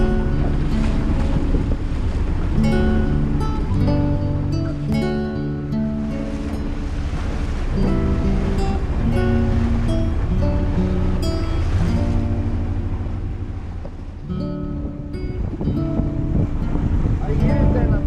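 Ocean waves breaking on a southern coast during a fishing trip, a continuous loud surf wash mixed with wind noise on the microphone and a strong musical bed over it.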